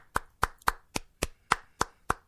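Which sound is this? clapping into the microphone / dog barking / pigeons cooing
clapping into the microphone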